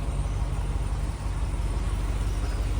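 A deep, throaty 6.4-liter Hemi V8 engine in a 2024 Ram 2500 Big Horn pickup rumbles steadily at idle, low and loud, with a continuous heavy burble and no voices.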